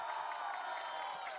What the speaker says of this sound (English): can we get a round of applause for this AWOL?